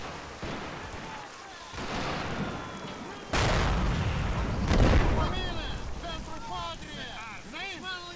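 Mortar and artillery fire in a 1919 Hungary versus Romania war strategy game: heavy booming blasts with rumbling tails, one sharp strong impact midway, over wind-like noise with overlapping voices talking.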